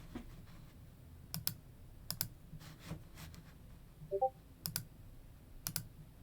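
A computer keyboard types in short bursts with a few sharp mouse clicks in between, close and fairly quiet against a faint room hum, no talking.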